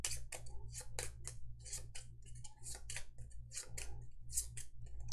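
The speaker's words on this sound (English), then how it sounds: "And shuffle the deck up." Cards from a Hero Realms deckbuilding game being shuffled during a solo tabletop session, a steady run of crisp papery snaps and riffles, close and fairly quiet over a low constant hum.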